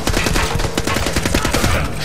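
Rapid gunfire from the shooter video game The Club in a Venice canals level, a loud, evenly spaced string of shots firing in quick succession, with no voices.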